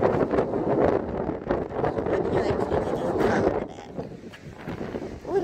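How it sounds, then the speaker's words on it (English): Strong wind buffets the microphone in a continuous low roar, gusting and easing, with no clear voices, at Aldwick Beach. "it's very windy"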